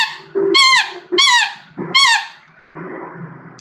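An oboe imitates a seagull with four loud, close, nasal squawking cries, each sliding downward in pitch. The cries come in quick succession, and the last is a rougher, lower honk.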